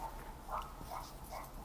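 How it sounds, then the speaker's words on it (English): A dog named Captain barks three times in a faint, evenly spaced series, heard from some distance in a quiet indoor room. "Oh, now Captain started barking."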